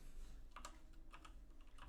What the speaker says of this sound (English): oh, I'm typing it wrong.